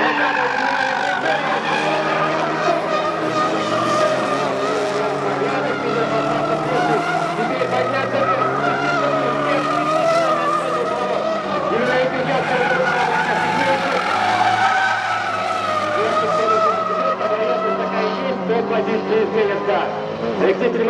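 Drift race cars skid through a course with a downhill section, engines roaring loudly and tires squealing continuously, with commentary running over the top throughout.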